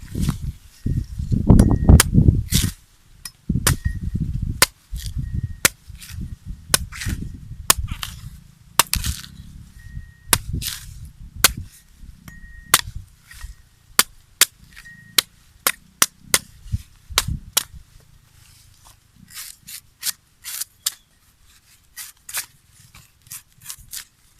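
A knife chops repeatedly into the husk of a fresh aromatic coconut, sharp percussive thwacks and cracks in an irregular rhythm at close range, with rustling and fibrous scraping between strikes and no talking.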